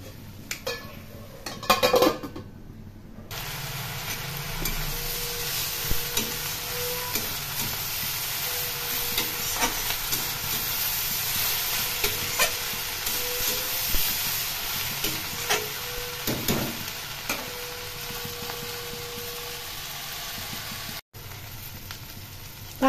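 Small fish curry with vegetables simmering covered on a low flame, a steady soft hiss and bubbling broken by scattered clinks of a lid and utensils against the pot, with no talking.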